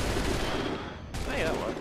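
Musket volley in Assassin's Creed III: a dense burst of gunfire filling the clip, with a sharp fresh crack of shots partway through over a continuous battle roar.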